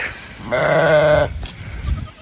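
A single loud goat bleat, drawn out and wavering for under a second, close by, with quieter farmyard sounds before and after it.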